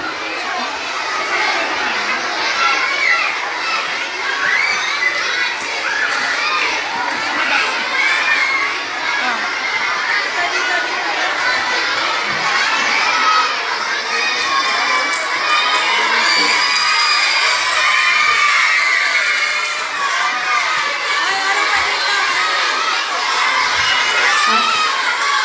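Schoolchildren shout and cheer at a school science culminating event, a loud, sustained crowd roar with high-pitched voices and whoops running unbroken throughout.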